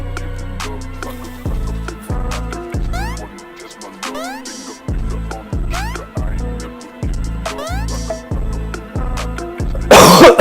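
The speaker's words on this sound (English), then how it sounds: "Sorry if I cough a bit on this stream" A person coughs repeatedly during a livestream, a dozen or so sharp, loud, close coughs in a steady rhythm, followed by a brief burst of noise at the end.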